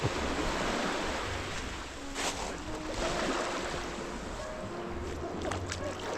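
Caribbean ocean waves wash and churn close by in a continuous rushing surge, with splashy swells rising and falling over several seconds.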